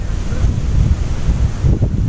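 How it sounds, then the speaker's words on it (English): Strong, cold wind buffets the microphone beside a fishing lake, producing a loud continuous low rumble that gusts up and down throughout. "Don't like this wind though. I mean, you can hear it."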